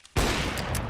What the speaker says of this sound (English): missed shot from Zello